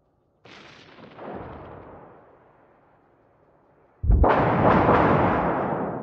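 Naval artillery fires in World of Warships from the British battleship Thunderer: a first heavy boom decays slowly, then a louder, sharper salvo bursts and rumbles on to the end.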